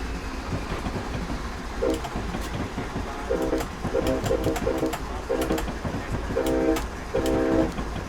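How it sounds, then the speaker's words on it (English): A Union Pacific ES44AC locomotive horn in Train Simulator on the Feather River Canyon route sounds in short rhythmic blasts over a steady rumble of the moving train. "the horn isn't really all that good for doing a shave and a haircut, unfortunately"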